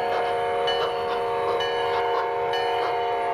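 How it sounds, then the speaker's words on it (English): A passenger train at a railroad terminal, with a sustained whistle-like horn tone ringing over a steady mechanical rumble, running loud throughout. "Let's board the train and begin our journey."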